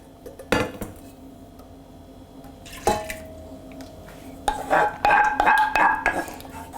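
Thick kulajda mushroom soup is scraped and poured into a pot, with clinks of a utensil against metal and wet sloshing near the end.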